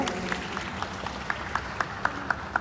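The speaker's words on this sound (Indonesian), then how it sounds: "Boleh berikan tepuk tangan untuk Kak Nabila hari ini." An audience at a live talk claps, with sharp, evenly spaced claps rising out of a soft background crowd noise. The clapping is fairly faint and rhythmic, close to a steady beat, over a little more than two seconds.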